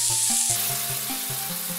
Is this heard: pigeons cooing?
no